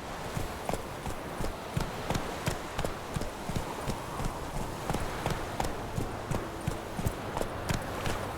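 Geralt's horse Roach gallops in Witcher 3, with rapid rhythmic hoofbeats drumming steadily and close against a soft game ambience. No one speaks.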